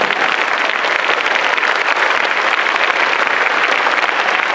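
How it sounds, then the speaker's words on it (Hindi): Audience clapping hands at an agricultural science student event, a dense, steady wash of applause filling the whole stretch, loud and continuous with no voices. "तो हाथ को खोल के ताली को करना,"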